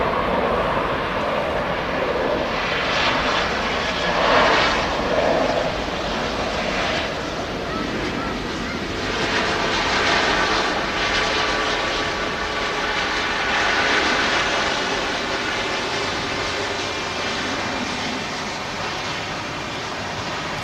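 An Airbus A330 jet roars past on the runway at Manchester Airport, a loud broad sustained engine rush that swells and lingers steadily throughout.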